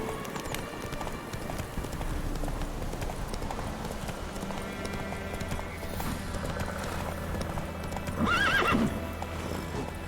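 Horse galloping in the video game The Witcher 3, with rapid rhythmic hoofbeats running steadily and a whinny near the end, close and clear.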